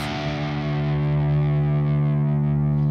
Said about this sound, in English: So you can just listen to this and tune to my string for now.